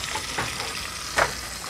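Fish fries in a frying pan over a steady, broad hiss of sizzling oil that fills the whole stretch, with a brief louder pop or clink near the middle.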